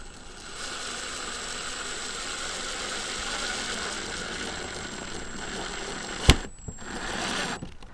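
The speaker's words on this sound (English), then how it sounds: "we finished screwing all of the screws that they provided for us into it" Screws are driven into a Dometic roof vent on a van roof with a power driver, a steady whirring, ratcheting drone that stops near the end, followed by a sharp clunk and brief quiet.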